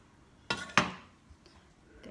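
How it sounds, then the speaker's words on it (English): A knife chops pork belly into small pieces for Kapampangan sisig, two sharp close thwacks on a board followed by fainter taps, with no talking. "I'm chopping the pork belly right here, small pieces like that"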